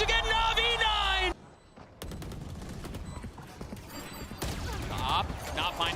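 Valorant gunfire barrage during a Champions 2023 esports match, rapid cracking shots in bursts after a pause, mixed under excited commentary from a caster.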